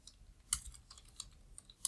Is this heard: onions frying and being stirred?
no